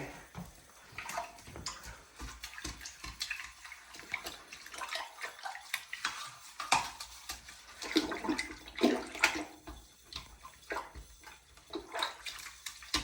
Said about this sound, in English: I'm not cleaning a clean toilet, I'm cleaning a dirty toilet